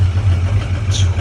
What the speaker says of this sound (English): There's a cold start.